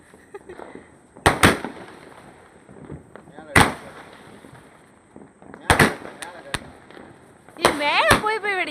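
Fireworks go off in a series of sharp cracks and bangs spaced a few seconds apart, ending with a crackling, whistling burst, while people talk excitedly between the blasts.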